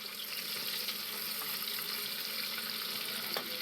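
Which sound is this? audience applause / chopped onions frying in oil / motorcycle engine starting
chopped onions frying in oil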